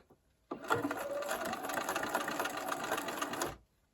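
A sewing machine stitches fabric for a granny square table topper in one steady, continuous run of rapid needle strokes, close and fairly quiet, starting and stopping abruptly.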